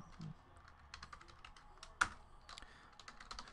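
Rapid clicky typing on a computer keyboard while logging football card hits, a close run of irregular keystrokes with one sharper tap midway.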